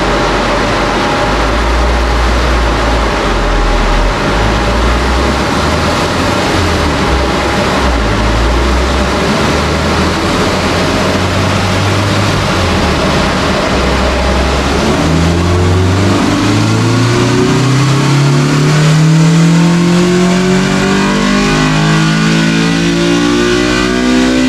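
A Honda B18C engine in an EG hatch with an Apexi catback exhaust revving on a dyno. It gives a loud, sustained drone that climbs steadily in pitch through a full pull and is heard alone without talk.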